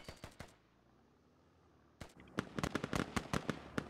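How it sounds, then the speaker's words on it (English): Gunfire trading back and forth in the video game Squad: sharp single shots at first, a short lull, then a rapid string of close, loud cracks mixed with more distant reports. "Shots trading back and forth."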